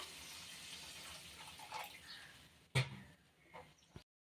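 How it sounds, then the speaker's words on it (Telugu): Water poured from a vessel into simmering chicken gravy in a pan, a steady splashing pour that builds, then a sharp clank and a few smaller knocks before it stops abruptly. "సో వాటర్ వేసుకొని ఈ గ్రేవీ అంతా కూడా బాగా ఉడకాలి."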